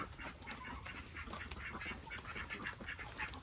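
Several ducks quack in a busy, overlapping chorus, close and fairly loud, with no talking.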